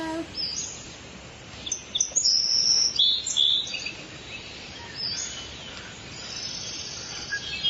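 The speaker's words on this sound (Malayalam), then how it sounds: "നമുക്കിന്ന് നമ്മുടെ വീട്ടിലും പരിസരത്തുമുള്ള കുറച്ച് പക്ഷികളെ പരിചയപ്പെട്ടാലോ" Birds around a house give bright, sharp chirps in short bursts over a constant outdoor hiss, clustered mid-way and then sparser.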